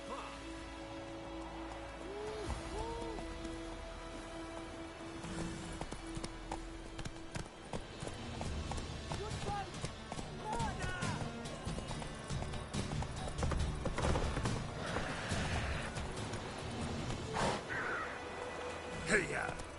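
A horse in The Witcher 3 clip-clops steadily along, hooves tapping in a running rhythm under game ambience, with a rider's brief vocal urging now and then.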